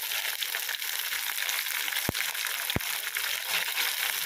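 Tomatoes and ginger-garlic paste sautéing in a pan, a steady close sizzle with two sharp clacks of a spoon against the pan, with no voices.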